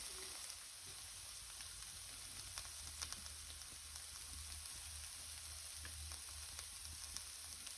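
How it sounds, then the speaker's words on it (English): Carrot and cabbage sautéing in a pan, a faint, even sizzle with scattered tiny pops and crackles and a low hum underneath, no talking. "So I'm gonna leave this to saute for about 1 to 2 minutes."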